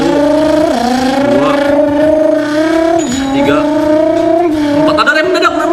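A voice imitates a two-cylinder 250 cc motorcycle engine, a loud, continuous buzzing drone that rises and dips in pitch like a throttle being worked through gears.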